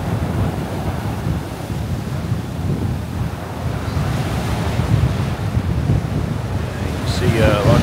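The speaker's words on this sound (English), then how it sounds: "wow, how choppy it is, really" Choppy sea waves crash and churn under strong gusting wind on the Blackpool seafront during Storm Ashley, a loud continuous roar with wind buffeting the microphone throughout.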